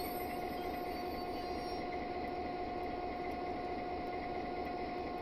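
A freight train in a train simulator game squeals its wheels as it slows to a stop, a sustained high metallic whine over a steady rumbling roar.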